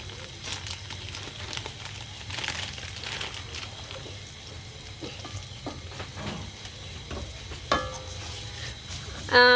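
Flour roasting in oil for a Sylheti tusha shinni dessert, a faint, uneven crackle and rustle of stirring with scattered scrapes, soft and close, ending in a louder bump.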